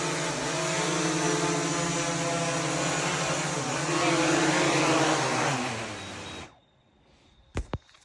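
DJI Mini 3 and Air 3 drones landing, a loud buzzing propeller whine that dips in pitch and swells before cutting off abruptly, followed by near silence and a couple of sharp clicks.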